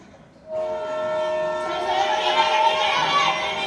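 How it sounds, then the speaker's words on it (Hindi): A train arrives at a station with a loud, sustained horn blast that sets in abruptly and holds over a rumbling, busy background. "चलो चलो, ट्रेन आ गई।"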